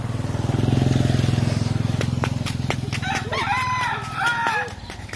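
A motorcycle engine droning loudly nearby and fading as it passes, while a rooster crows and voices talk over the end.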